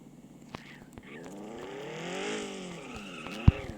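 A car engine hums and rises in pitch, revving up and easing off, with a sharp click near the end.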